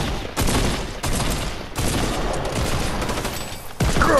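Rapid, sustained gunfire in Fortnite's Horde Rush mode pounds loudly and densely, in several long bursts separated by brief breaks.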